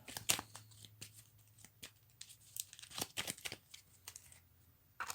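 Quick papery riffles and snaps of cards being shuffled for a board game, in short bursts with pauses between, close by and fairly quiet.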